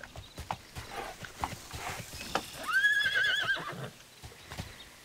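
Horse hooves clip-clop in the online game TERA while a horse lets out a rising whinny midway through, the neigh standing out clearly above the steady hoofbeats.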